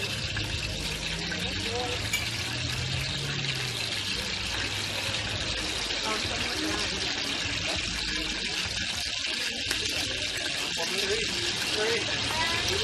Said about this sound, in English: In the oil, it's hot, it's bubbling by the sound